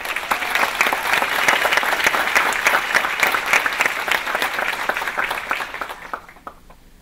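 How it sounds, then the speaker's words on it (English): A conference audience claps loudly and continuously, many hands together in a dense roar that holds steady and then tapers off quickly near the end. "let's have a big round of applause for them"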